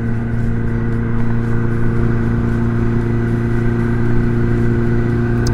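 A Suzuki Bandit 600 motorcycle under way, its engine holding a steady, loud mid-pitched drone with a constant wind rush throughout and no voices.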